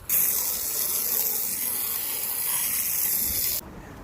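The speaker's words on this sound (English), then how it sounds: "First step is going to be to rinse them off." Water sprayed steadily onto steel wheel rims, a loud continuous hissing rush lasting several seconds before cutting off abruptly, close up with no talking.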